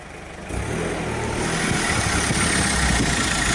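Engine of the Hillbilly Deluxe project car idling steadily while it reverses slowly, a loud, continuous rumble that swells slightly after the first half-second, with no talking.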